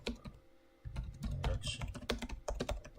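Computer keyboard typing in a rapid, irregular patter of clicks, mixed with a low voice-like murmur through most of the stretch.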